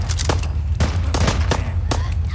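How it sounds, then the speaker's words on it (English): Loud gunfire in Fallout 4, a handful of close, punchy shots spaced irregularly over a low rumbling background, with some speech nearby. "It's either an enemy or Nicholas shooting him."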